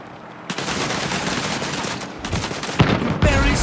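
Cannon blasts and rapid gunfire hammer at a tank in the Land of War PC game, a dense, loud barrage running almost continuously with a few sharper booms punching through near the end.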